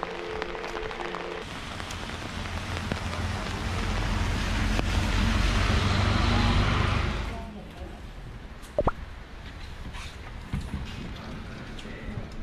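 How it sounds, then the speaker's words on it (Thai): Steady rain falls on a cold early morning on a trip through Gero and Takayama, Japan, a dense hiss that swells and then drops off sharply, with a sudden louder splash or knock afterwards. "ฝนตกซะด้วย"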